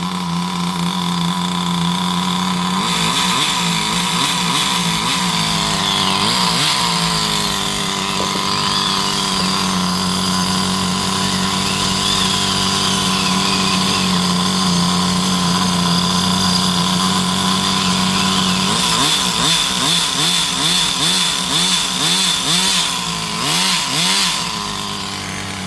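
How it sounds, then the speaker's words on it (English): Compagnucci Super Beetle gas RC car with a faulty coil, its small two-stroke engine droning continuously and wavering unsteadily as it surges and loses control, loud and close throughout. "The coil is causing the engine to lose control."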